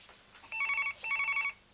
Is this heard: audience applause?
no